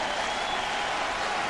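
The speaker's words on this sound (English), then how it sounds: "Crowd finally comes alive" A baseball stadium crowd at a 1999 Red Sox at Mets game cheers and applauds in a steady, dense roar of noise from a large audience.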